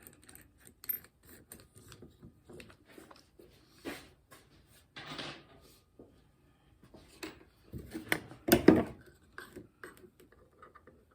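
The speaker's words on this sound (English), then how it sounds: "So now we're going to attach the screw to the PVC." A screw driven through a drilled pilot hole into rounded PVC pipe, heard as quiet, intermittent bursts of grinding and clicking separated by silent pauses, close by.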